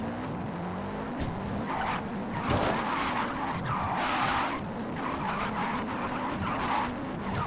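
A car drifting through a drift zone in Forza Horizon 5, with a continuous revving engine and long, wavering tire skids and squeals repeating throughout, loud and close, with no voices.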